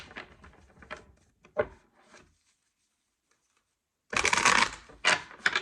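Two bursts of riffling tarot card shuffles, a soft flurry of papery flicks, a pause of near silence, then a louder, closer shuffle at the end.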